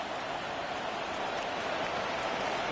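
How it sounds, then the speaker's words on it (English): Steady rain falling during a football game, a dense, even hiss with no breaks, moderately loud and uninterrupted by voices. "The rain set to continue as we are underway in the second half."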